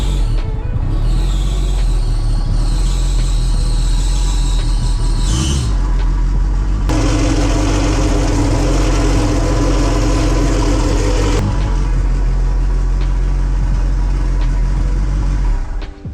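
A compound turbo DSM car engine idling loud and close with a steady low drone and a rough, uneven tone, overlaid by a shifting midrange whine partway through, and no talking.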